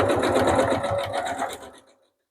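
Close sewing machine stitching fabric in one steady rhythmic burst that runs for under two seconds and then stops into silence.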